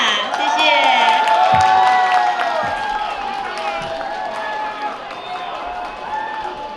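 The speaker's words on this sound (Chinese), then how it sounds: "请大家尖叫加掌声给她鼓励一下" Audience at the Northern California Taiwanese Lantern Festival screams and applauds for a young solo singer: loud cheering and high-pitched shouts over clapping, strongest at the start, then easing while the crowd noise continues.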